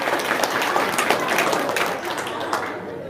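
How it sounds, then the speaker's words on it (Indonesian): An audience breaks into steady applause, a thick, continuous wash of many clapping hands held at an even level for a few seconds, with a little crowd noise mixed in. "Tepuk tangan dong"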